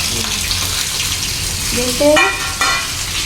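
Cumin seeds sizzling in hot oil in a pan for stuffed brinjal kurma, a steady close crackle with a few stirring scrapes.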